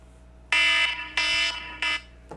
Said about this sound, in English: here goes my alarms.